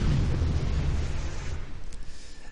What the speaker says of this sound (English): you fire out the little shock ball and then you shoot it with your shock rifle, and you get this grand explosion